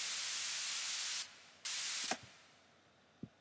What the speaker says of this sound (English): And then that's that white noise.